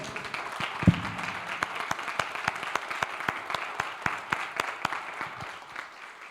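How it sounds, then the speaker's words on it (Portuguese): A church congregation claps in a steady rhythm, applause continuing evenly with a brief louder bump near the start. "Dá uma salva de palmas para o Senhor, como sempre."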